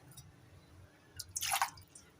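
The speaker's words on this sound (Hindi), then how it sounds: "आधा गिलास में पानी और डालूंगी।" Water poured from a glass into a cooking pot holding chana dal, beef, ginger and salt: a short, soft splashing pour lasting about half a second, close by, with no talk.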